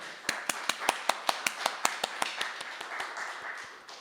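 Steady rhythmic hand claps from a church congregation at a dawn service, about five per second, sharp and close, continuing for several seconds before fading into a softer wash.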